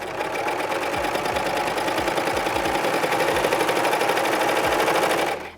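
A serger runs fabric through to finish its edges, giving a loud, rapid mechanical whirring stitch that hums steadily at close range for about five seconds and then stops, with no talking.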